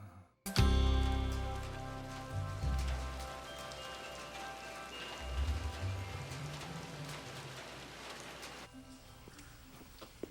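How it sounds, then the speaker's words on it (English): Rain falls on a rainy day, a soft steady patter and hiss held at a low level throughout, with a few louder thumps and swells that rise briefly over it. "It's a rainy day."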